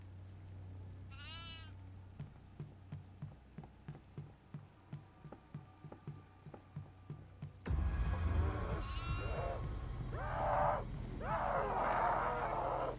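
Goat bleats in the co-op horror game Devour: one wavering cry over a run of regular footstep-like thumps, then a louder burst of agitated, rising bleats close by over a heavier rumbling background.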